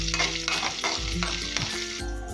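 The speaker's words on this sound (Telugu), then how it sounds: "5-6 పచ్చిమిర్చి తుంచి వేసుకొని అవి కొద్దిగా వేగిన తర్వాత అందులో 1 స్పూన్ జీలకర్ర, 6-7 తెల్లవాయలు వేసి బాగా వేగనివ్వాలి" Green chilies, cumin seeds and garlic cloves fry in hot oil, a steady loud sizzle with bursts of crackle and stirring scrapes, close and alone without any voices.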